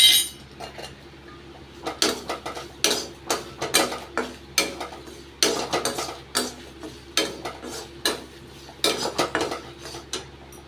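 Lentils dry-roasting with turmeric powder in a pan, stirred with a metal spoon that scrapes and clatters in regular bursts about once a second, close up against a quiet background.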